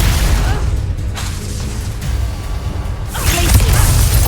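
Expulso explosion spell cast in Hogwarts Legacy, a loud booming burst with crackling debris, a brief lull, then a second heavy swell near the end, close and dense.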